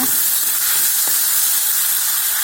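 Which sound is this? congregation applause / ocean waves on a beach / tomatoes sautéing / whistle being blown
tomatoes sautéing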